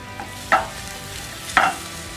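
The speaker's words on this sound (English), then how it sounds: "We're gonna leave these to slowly cook for maybe like between 8 to 10 minutes." Garlic and onions cook gently over low heat in a pan for homemade tomato sauce, a soft steady sizzle with two short scraping stirs heard near.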